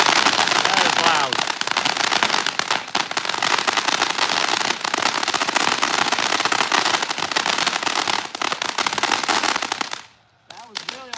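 Loud, dense barrage of exploding firecrackers and fireworks at a live 2025 TNT and Phantom fireworks demo, rapid crackling bursts going on nonstop for about ten seconds, then cutting off abruptly before a few last scattered pops.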